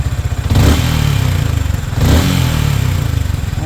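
A Yamaha Sniper 155 motorcycle engine with a faulty cam bearing revs loudly up close, throbbing rapidly with two surges of acceleration over a rough, steady idle.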